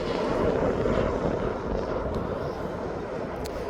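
A Ryanair Boeing 737-8AS arriving from Malaga lands at East Midlands Airport with a broad, steady jet roar that holds at a moderate distance throughout.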